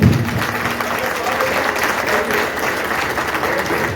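Loud, sustained applause fills a Hindi-language thanksgiving prayer gathering as the congregation welcomes guests. Many hands clap together in a steady, even roar with a brief voice audible at the very start.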